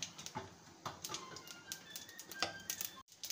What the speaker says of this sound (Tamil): வாணலியில் எண்ணெய் ஊற்றி கடுகு